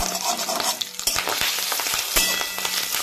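Fish roe frying in hot oil in a karai for a Bengali chutney, a loud continuous crackling sizzle with sharp pops and spatters, plus a few metallic clinks of a spatula stirring against the pan.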